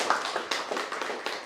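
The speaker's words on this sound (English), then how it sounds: "please give yourselves a round of applause for coming" A crowd applauding, a dense wash of many hands clapping at once, steady and fairly loud for a moment.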